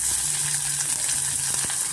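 Green chilies fry in hot oil with a continuous close crackling sizzle, and a couple of soft stirring taps come through under it. No voices.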